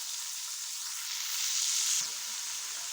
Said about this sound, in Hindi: जैसे मैं 3 मिनट तक हम इन्हें अच्छे से भूनेंगे।